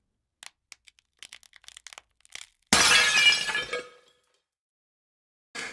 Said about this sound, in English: But according to Jerry Rigg, glass is glass and glass breaks.